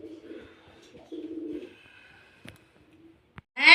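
Low, throaty pigeon coos sound twice in short bursts, close by, followed by faint clicks and a sudden brighter burst at the end.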